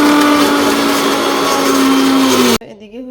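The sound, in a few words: electric blender grinding ginger and garlic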